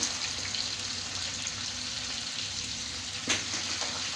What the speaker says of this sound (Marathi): आता दुसरी साईड पण आपण पाच मिनिट छान अशी फ्राय करून घेऊ